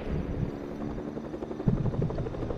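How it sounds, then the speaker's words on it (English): A helicopter approaches in the video game Fortnite, its rotor thudding as a steady, fairly loud drone that grows slightly stronger toward the end. "There's a helicopter coming."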